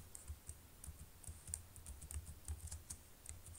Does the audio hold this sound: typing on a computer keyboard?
yes